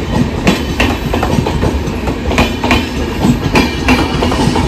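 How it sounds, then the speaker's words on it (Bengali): The Bharati Express rolls past on the rail line near Guskara station, a loud, steady rumble with repeated clickety-clack wheel beats and bursts of hissing noise throughout. "ভারতী এক্সপ্রেস যাচ্ছে।"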